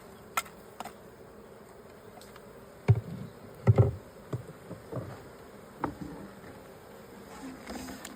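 Bees buzzing around a hive box with a feeder, a faint continuous hum scattered with sharp taps and knocks close by.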